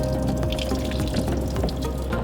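Coolant drains from an Iveco Daily campervan into a container, a steady close pouring and splashing stream running continuously without talk.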